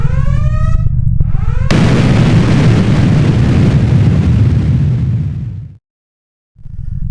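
A huge explosion from a collision in Minecraft erupts suddenly after brief voices and tones, a loud sustained roaring blast that rumbles for several seconds before cutting to silence.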